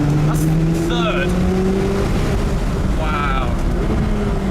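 A McLaren 570GT sports car engine roars steadily and loudly from inside the cabin as it accelerates hard uphill on a volcano road, its pitch rising gradually, while people speak over it.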